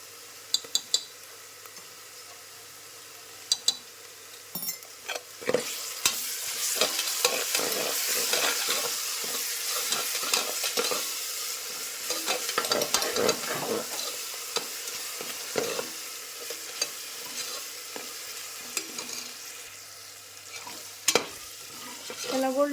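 Chicken shallow-frying with ginger garlic paste for a chicken sukka curry: a close, crackling sizzle under intermittent stirring scrapes and metallic clinks of a utensil on the pan, with no voices.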